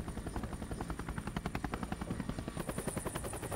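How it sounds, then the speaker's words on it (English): A helicopter in the game Incredible Crisis chops with a fast, steady rotor beat, loud and close, continuing without pause. "She's in a helicopter."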